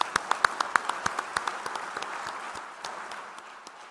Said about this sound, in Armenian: ես առաջարկում եմ ծափահարություններով ողջունենք մեր արցախցի քույրերին ու եղբայրներին